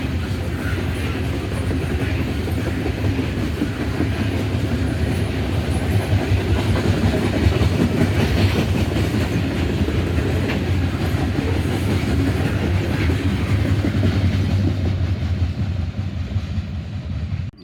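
A southbound Norfolk Southern intermodal freight train rolls past Attica Junction on the Columbus–Sandusky line, with steady loud rumble and rhythmic clickety-clack of wheels over rail joints throughout, close by, with no talk.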